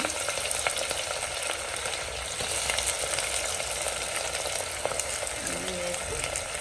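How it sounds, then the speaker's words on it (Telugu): Onions frying in oil with chillies and curry leaves in a pressure cooker for mutton curry: a steady, close, crackling sizzle that runs throughout, with faint stirring. "వేయించాలి బాగా ఉల్లిపాయలు వేగుతుంది"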